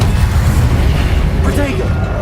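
A Confringo blasting spell in Hogwarts Legacy sets off a deep, rumbling explosion that booms loudly and lingers through the short stretch, with a brief rising tonal sweep near the end.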